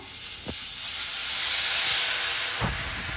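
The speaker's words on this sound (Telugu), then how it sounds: "ఇప్పుడు చింతపండు నీళ్లు పోద్దాం." Tamarind water poured into a hot oil tempering with curry leaves, turmeric and asafoetida for pulihora: a loud, close, steam-like sizzle and hiss that swells for about two seconds and then eases, with splashy bursts at the start and end.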